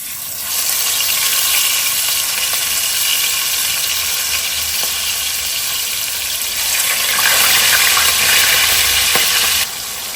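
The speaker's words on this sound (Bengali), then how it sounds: "মাছটা ভাজা হোক" Rohu fish sizzles steadily in a hot pan, a loud, continuous hiss of frying oil that swells louder toward the end, with no talking.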